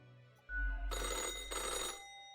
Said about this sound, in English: the phone rings in an ear-piercing metallic clatter